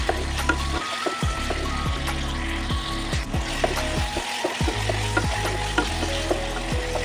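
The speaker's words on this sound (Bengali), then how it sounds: "পেঁয়াজটাকে ভালো করে ভাজতে হবে" Chopped onions with a spoonful of salt sizzle in a pan over medium heat, a steady loud hiss broken by rhythmic scrapes and clanks of a spatula stirring, with no talking.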